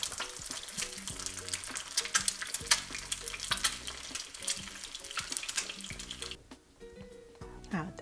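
An egg fries in a pan for nasi goreng, a steady loud sizzle with dense spattering and crackling throughout, easing slightly near the end as something is stirred.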